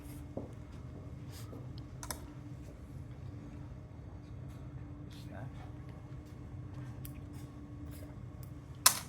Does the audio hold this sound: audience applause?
no